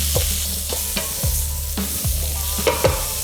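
Seasoned peri peri chicken being stirred in a frying pan, with a loud continuous sizzle and repeated scraping strokes of a utensil across the pan at an uneven rhythm.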